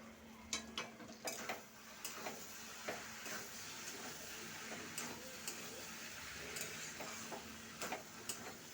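A pot of banana flower curry, with a little water added, is stirred and covered. Faint, sparse ticks and scrapes of a utensil against the pot come in irregular bursts over a quiet background.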